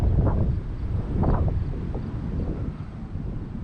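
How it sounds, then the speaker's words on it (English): Gusty wind buffets the microphone at an RC flying field while an Apprentice STS model plane flies, a low rumbling roar that swells and fades in uneven pulses. "that wind was kicking kind of hard"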